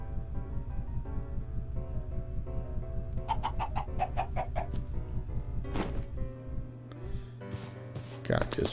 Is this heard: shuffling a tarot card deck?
no